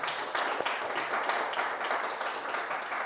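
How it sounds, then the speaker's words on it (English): An audience applauds after a set of presentations, a steady wash of many hands clapping at moderate distance, fairly faint and continuous throughout. "I think all of you deserve a big applause"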